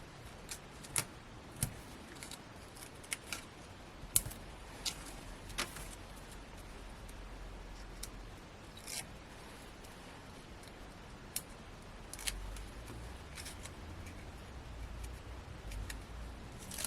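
Scissors snipping card pieces for cardmaking, a quiet scatter of sharp, brief clicks spaced irregularly over a faint hiss, with no voices.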